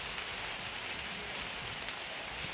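Steady rain falls through a night thunderstorm onto a garden of potted plants and roses, a dense, even hiss of drops on surfaces that continues without pause and without any voices.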